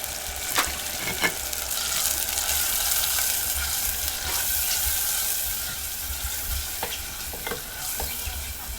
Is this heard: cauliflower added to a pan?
yes